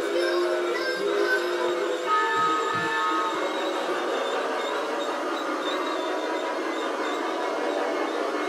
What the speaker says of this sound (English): What do you think about your train, Robbie?